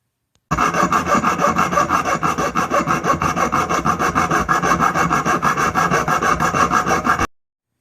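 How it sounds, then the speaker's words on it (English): A hand file rasps steadily across the crimped edge of a Kohler engine shower cap exhaust muffler clamped in a vise, giving close, rhythmic scraping strokes with no speech. "if you go around real gently with the file on the edge, the back piece will actually start to separate right off for you"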